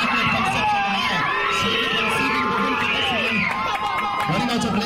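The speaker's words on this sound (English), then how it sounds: "The screams from the Immaculate contingent are certainly deafening." A school crowd at a girls' 100m track race screams and cheers continuously, loud and dense, with shrill children's yells layered over the roar and a commentator's voice running underneath.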